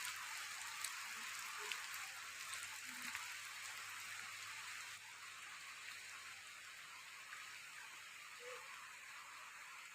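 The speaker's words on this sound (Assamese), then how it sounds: "বৰষুণো খুব দি আছে" Heavy rain falls steadily at Letekupukhuri, the birthplace site of Sri Sri Madhavdev in Narayanpur, Lakhimpur district. It makes an even, constant hiss with scattered faint drips and no voices.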